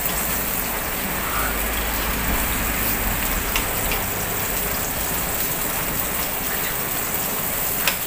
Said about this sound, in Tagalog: lumalakas na naman yung ulan